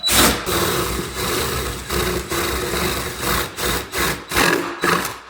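A power drill with a paddle bit boring a hole through a kitchen cabinet, loud close whirring grind in several bursts, starting and stopping with short pauses between.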